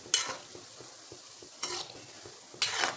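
Gulab jamun fry gently in oil over a low flame, with a soft steady sizzle under three brief scraping swirls of a spoon stirring the pan, spaced about a second apart.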